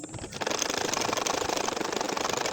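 Fast, even mechanical chatter of a sewing machine stitching a baby nakshi kantha quilt, starting after a brief pause and running steadily close by with no talk.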